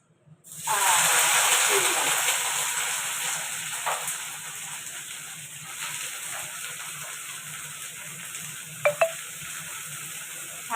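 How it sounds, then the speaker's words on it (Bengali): Cauliflower florets sizzle and hiss steadily in a pan of hot oil, with occasional stirring clinks, loud and close throughout with no talking. "ফুলকপি ভাজবো ফুলকপি ভাজা বেশ ভালো লাগে খেতে শীতকালে"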